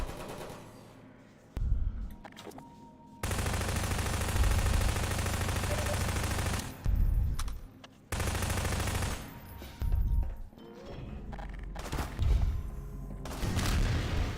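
An automated turret in a video game fires in long sustained bursts of rapid, loud gunfire, broken by short pauses and scattered heavy thumps, with no talking over it.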